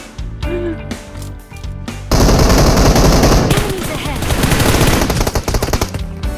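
Automatic gunfire in the PUBG Mobile video game: loud, dense bursts of rapid shots crackle almost continuously after a brief quieter stretch of game sounds.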